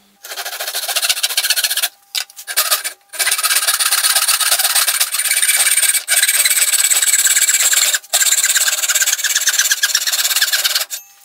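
Handsaw cutting a wooden board in a miter box, loud, close rasping strokes in long steady runs, broken by brief pauses between passes.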